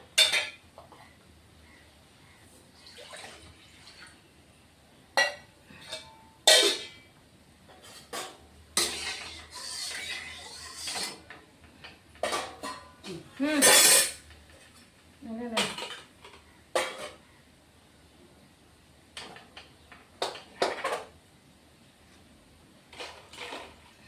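A metal wok is set back on a home kitchen stove while an egg masala is cooked. Scattered metallic clinks and clatters come in short, irregular bursts with quiet gaps between them.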